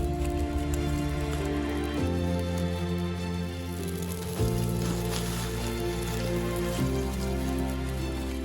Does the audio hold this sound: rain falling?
yes